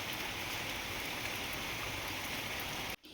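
Heavy overnight rain pours steadily behind a house in coastal Karnataka, a dense, loud and unbroken hiss of drops on surfaces. It cuts off abruptly just before the end.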